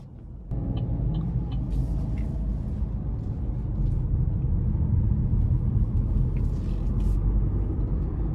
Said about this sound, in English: it is nice to be able to make pulls in a straight line and feel that slight exhilaration from the turbocharger